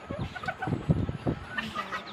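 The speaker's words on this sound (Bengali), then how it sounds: "এটা দেখতে পাচ্ছেন ডিমের মুরগি" Laying hens cluck in a poultry shed, a run of short, close, overlapping clucks and soft calls from several birds, with no talk over them.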